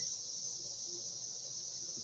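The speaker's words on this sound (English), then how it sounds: "I'm outside, so yeah, that's all you hear is cicadas." Cicadas droning outdoors in a garden on a warm day, a continuous high, even buzzing whine that holds steady throughout, with no talk over it.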